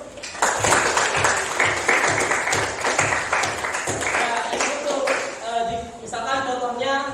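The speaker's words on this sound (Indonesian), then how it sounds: "kasih tepuk tangan dulu" Classroom applause for a student who answered correctly, a burst of clapping from the class mixed with overlapping voices and chatter.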